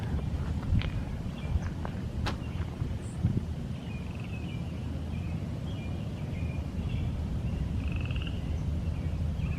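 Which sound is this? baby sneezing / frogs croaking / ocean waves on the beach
frogs croaking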